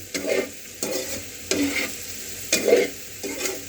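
Spiced potatoes for a fasting dish are stirred in a frying pan, five evenly spaced scraping strokes over a soft background sizzle, close up with no voices.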